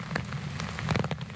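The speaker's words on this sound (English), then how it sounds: "Enjoy the rain. We're all going to get wet." Rain falls through the redwood forest of Muir Woods, a steady close patter on leaves and ground with scattered heavier drops, no voices.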